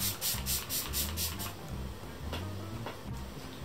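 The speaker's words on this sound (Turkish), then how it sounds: "Bir makyaj sabitleme spreyi sıkacağım." Makeup setting spray hisses out of a bottle in a rapid series of short bursts, close and fairly loud, followed by quieter rubbing and soft tapping.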